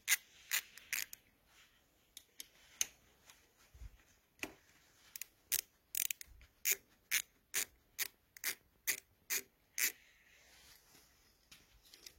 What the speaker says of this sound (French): Donc je vais commencer par retirer ces deux vis là.